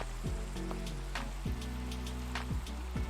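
Rain falls in the Minecraft ATM8 modpack as a soft, steady hiss, with a few low descending game tones and faint blips layered on top.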